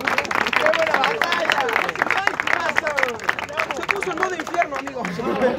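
A crowd at a freestyle rap battle bursts into applause and cheering, dense loud clapping mixed with shouts and babble filling the whole stretch.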